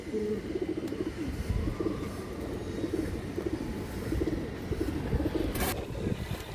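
Silver stone-eyed pigeons coo softly in repeated low murmuring phrases, fairly close, over a continuous background rumble.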